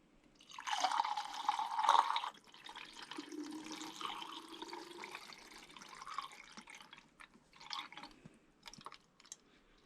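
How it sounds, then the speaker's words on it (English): Water drips and splashes during home film developing, as stop bath is added for Kodak 200 and Portra 160 film; a louder wet splatter comes first, then softer, steady trickling and scattered drips close by. "Again, just dripping water everywhere,"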